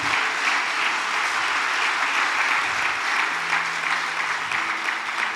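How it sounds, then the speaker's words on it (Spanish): A church congregation claps together in a dense, steady round of applause that fills the room for several seconds, with no voices over it. "¿Por qué no das un aplauso a Dios?"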